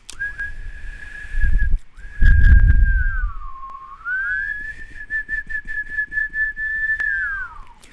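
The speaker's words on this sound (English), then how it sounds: "Sorry for the horrible whistling." A person whistles a clear, sustained tune with dry lips, holding long steady notes that glide down and back up, with a couple of short breaks and breathy puffs in between.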